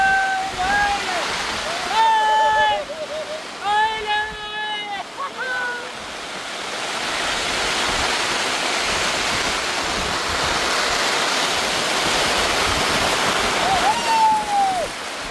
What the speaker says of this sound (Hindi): इसको टेढ़ा करो गाइस, ये पानी खाली करना होगा, बरसात का पानी और गिर गया तो।